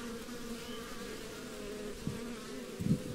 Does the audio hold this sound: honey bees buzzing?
yes